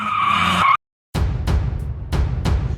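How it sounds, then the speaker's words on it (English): A short burst of sound cuts off, then repeated harsh screeches and skids of car brakes sweep past in quick waves, loud and close. "the driver slammed his foot against the brake pad, creating the metallic echoing sound"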